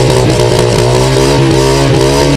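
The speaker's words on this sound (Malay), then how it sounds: "Jom kita dengar bunyi enjin dia." A used Honda EX5 Dream motorcycle idling up close, its engine putting out a loud, steady, throbbing drone with slight rises in revs, running alone with no talk.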